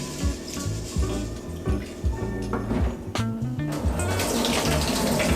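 Tap water runs into a bowl while rice is rinsed in a kitchen sink, a continuous splashing flow with sloshing and bubbling, close and fairly loud, with no talk.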